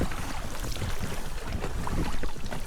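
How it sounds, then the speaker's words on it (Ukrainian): Strong wind over a fishing pond buffets the microphone in a constant, roaring rush with no pauses, loud and close throughout. "Вітер дуже великий, одразу мене до берега прибиває."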